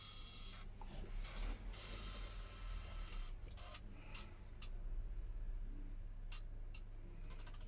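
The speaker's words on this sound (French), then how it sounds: "Et là, la soudure se fait." An optical fibre fusion splicer welds cleaved fibres for an FTTH connection, giving a steady mechanical whir and hum with a few sharp clicks and crackles near the end, with no talking.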